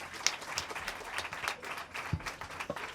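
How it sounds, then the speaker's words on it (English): A crowd applauds with steady, dense clapping, moderately loud and sustained throughout. "Clap for yourselves."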